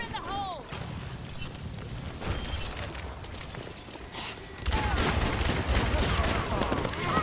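Turret gunfire in the game Overwatch, a dense run of rapid shots that swells louder and thicker about two-thirds of the way through, layered over busy game noise.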